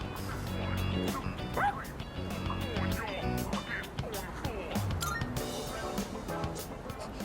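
Angry dog barking in Persona 3 Reload, yipping and bow-wowing in rapid bursts over a dense, busy game soundtrack with crashes and background effects.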